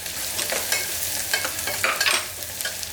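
Onions sautéing in a pan for a mutton bone curry, a close crackling sizzle with quick scraping stirs and spatula taps over a few seconds, no talking.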